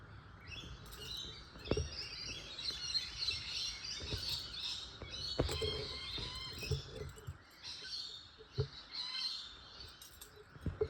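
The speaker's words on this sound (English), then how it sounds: "Oh, morning Crow, you've arrived." Bird calls and chirps recur through a quiet indoor setting with a sewing and embroidery session underway, fitting a crow arriving outside in the morning; the calls come as several sharp bursts at moderate distance, with no talking.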